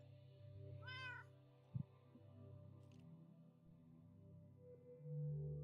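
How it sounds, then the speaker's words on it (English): Cat meowing in a video game with a village construction setting, one clear rising-falling meow near the start over a steady low game hum, followed by a short thump. "this cat has knocked me off of so many things"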